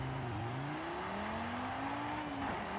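A 2011 Audi RS3 Sportback in Forza Horizon 5 accelerating down a quarter-mile drag strip, engine note climbing through the revs, dropping at a gear shift, then rising again, loud and continuous.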